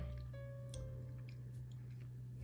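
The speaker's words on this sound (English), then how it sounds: "Okay, so let's take a bite." Someone bites into ruby chocolate candy bark and chews it. The bites give faint, close crunches over a quiet room hum.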